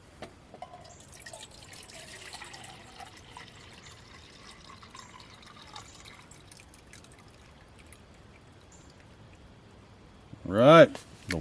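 Water pours and trickles into a Jetboil pot outdoors in the woods, a soft, low trickle that runs for several seconds and ends with a brief louder clatter.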